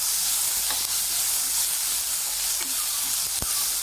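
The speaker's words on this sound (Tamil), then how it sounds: "இதில் வெங்காயத்தை நல்லா நறுக்கி வச்சதை நம்ம இதில் சேர்த்து வதக்கிக்கலாம்." Chopped onions sauté in hot oil in a pan, giving a steady, even sizzle and hiss throughout with a few faint clinks, and no voices.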